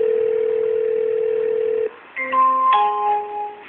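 A telephone line tone holds steady for about two seconds, breaks off, and gives way to a short electronic melody of rising beeps, like a call connecting to an answering machine.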